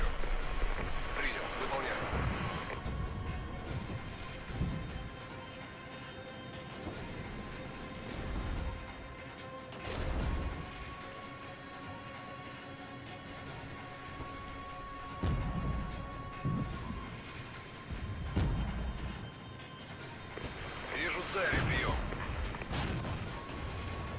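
A tactical missile strike in the strategy video game Regiments lands as a series of distant booms and crashes spread across the stretch, low in level and mixed with battlefield ambience and someone talking.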